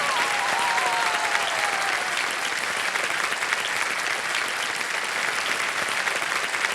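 Sustained applause from a large studio audience on the Kaun Banega Crorepati game show, steady and dense clapping throughout with a faint whistle-like tone early on.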